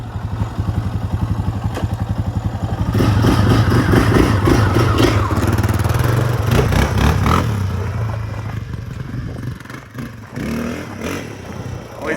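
Cheap race-style motorcycle sold as a wheelie bike, engine revving hard on a test ride, building to a loud sustained roar around the middle and easing to a lower drone toward the end, close and continuous.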